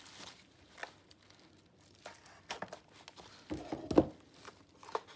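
A Tim Holtz vignette divider drawer is unwrapped close up, with quiet, sporadic crinkling and tearing of packaging and a few sharper rustles and crunches, and no talk.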